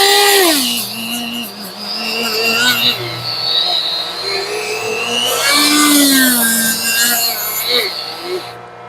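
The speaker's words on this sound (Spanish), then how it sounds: "El segundo igualmente, primero vamos a pulir." A torsion bar bushing seat on an International WorkStar dump truck is polished with a power tool, giving a steady whirring grind with pitch swoops as pressure changes, close and loud with no talk.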